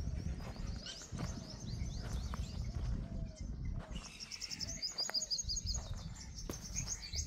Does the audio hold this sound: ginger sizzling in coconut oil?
no